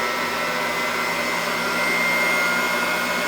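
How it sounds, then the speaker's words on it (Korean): An electric whisk whips Greek yogurt, a loud continuous motor whir with a steady buzzing drone that holds unchanged throughout, no voices. "요거트 휘핑을 제가 한번 해보도록 할게요"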